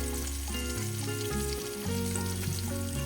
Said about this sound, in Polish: Rybka już ładnie skwierczy, ładnie się smaży.